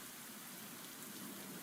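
Steady rain hissing on surfaces in a video game, soft and even throughout with no voices or other sounds.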